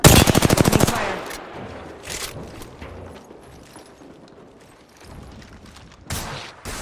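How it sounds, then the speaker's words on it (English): A video game shooter opens with a rapid burst of automatic gunfire, loud and close, followed by quieter scattered shots and movement, then a few more sharp bursts near the end. "Opening fire."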